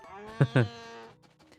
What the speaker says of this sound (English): Not over your cows mooing angrily at you despite having full troughs